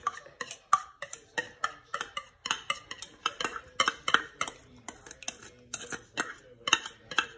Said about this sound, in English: Probably could use something better than my butter knife here